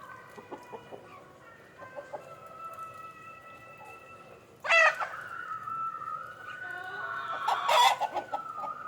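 Country chickens cluck and a rooster crows loudly at a coop being opened in the early morning, with layered clucking and calls from several birds, close and clear.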